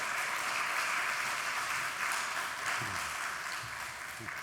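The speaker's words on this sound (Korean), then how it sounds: "우리 김승진 교수님 나오실 때 한번 큰 박수로 이렇게 맞이해 주시면" A church congregation applauds during a Sunday worship service to welcome a guest professor to the pulpit: steady, sustained clapping from a large crowd, heard from some distance in a reverberant hall.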